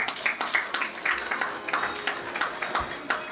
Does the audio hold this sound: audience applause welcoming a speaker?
yes